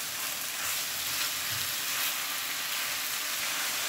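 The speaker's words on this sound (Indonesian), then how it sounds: "Dan kita aduk-aduk ya." Beef steak pieces frying in a pan for bistik while being stirred, a soft steady sizzle with faint scraping movements, quiet and continuous, with no talking.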